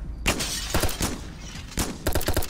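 Gunfire in a video game: loud, close bursts of rapid shots in uneven clusters, with short gaps between volleys.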